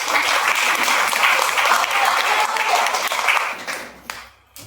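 Loud, dense applause from an audience at a marketing plan presentation, sustained for about four seconds before tapering off into a few scattered claps.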